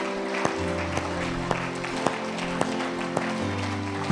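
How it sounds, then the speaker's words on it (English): Church congregation clapping during a Sunday service, with scattered claps and sharp individual hits rising above a sustained keyboard or organ tone held beneath them. "can you give a clap offering to the Most High?"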